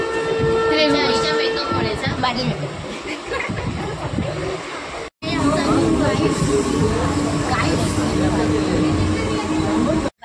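A train rumbles and clatters steadily, close and loud, with tonal horn-like sounds early on and a brief cut midway.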